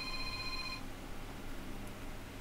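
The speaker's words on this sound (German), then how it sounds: "Jetzt klingelt das Telefon." A telephone rings once in a short electronic burst that cuts off, followed by quiet room hiss with no voices.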